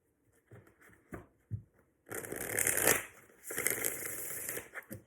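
Cards are shuffled close up: a few soft taps and riffles, then two longer bursts of rapid, crisp flapping.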